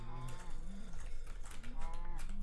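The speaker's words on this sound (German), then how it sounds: "Warte, hier sind Kühe, hier sind Kühe." Cows moo in Minecraft: several low, drawn-out bovine calls follow one another, fairly faint and blended with game noise and a voice that talks quietly.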